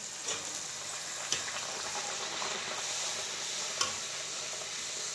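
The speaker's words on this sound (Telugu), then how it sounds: "ఇప్పుడు రుద్దుకున్న దానిని బాండీలో వేసుకుందాం" Puri frying in hot oil in a kadai, giving a steady, soft, bubbling sizzle throughout with a couple of faint clicks of utensils. There is no talking.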